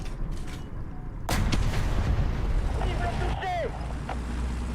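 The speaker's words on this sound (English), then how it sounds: "He called artillery on me." An artillery strike lands in the War Thunder tank game, with a heavy booming impact followed by a sustained rumbling roar and a whistling shell sound, fairly loud over steady background noise.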